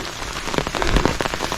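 Rain patters steadily at the Kattadikadavu hilltop viewpoint, a close, dense spatter of drops hitting nearby surfaces with a few louder splashes and no voices.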